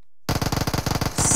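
Rapid automatic M4 rifle fire in an esports battle-royale match, a loud close burst of evenly spaced shots after a brief silence, ending in a harsher, denser blast.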